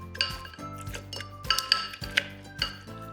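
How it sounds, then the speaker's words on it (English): Cucumber and simple syrup being muddled in the bottom of a glass for a cucumber mocktail: irregular clinks, knocks and scrapes of the muddler against glass, heard close with no talk. "we're going to muddle that at the bottom of the glass"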